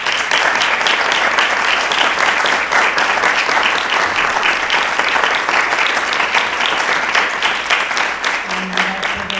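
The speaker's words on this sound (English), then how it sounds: "Please help me give a very warm round of applause to Richard and Vivian." A hall audience gives a warm, sustained round of applause for the adjudicators at a competition final. Dense, loud clapping continues throughout, with a faint voice near the end.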